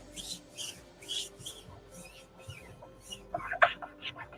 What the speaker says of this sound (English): Just burnishing around some of my edges. Make sure it's sealed off.